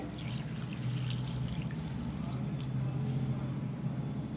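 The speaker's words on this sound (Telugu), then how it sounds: "ఒక గ్లాస్ వాటర్ వేసుకోవాలండి" Steady pouring of a glass of water into a broad bean and tomato curry for a few seconds, a soft continuous splashing stream close by with no voices.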